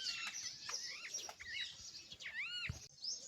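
A flock of parrots calls nearby in quick, shrill, rising and falling squawks that overlap in bursts, fairly faint against a quiet outdoor background.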